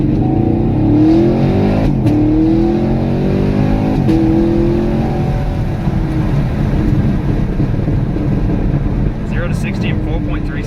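A 2019 Camaro SS with a 10-speed automatic on cold stock tires accelerating hard from 0 to 60, a loud continuous engine roar with rising pitch and gear shifts heard from inside the car, people talking over it.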